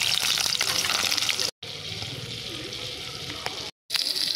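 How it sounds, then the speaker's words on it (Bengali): Pointed gourd (potol) fries in hot oil in a kadai, giving a steady nearby sizzle and some stirring, interrupted by two short silent gaps. "তেল গরম হচ্ছে, পটল দিয়ে দিচ্ছি।"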